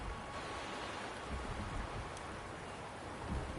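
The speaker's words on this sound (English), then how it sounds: "The rain is subsiding, and the sky will soon clear." Steady rain in the Wuthering Waves game world hisses as a broad, even wash of drops, soft and constant with no voices.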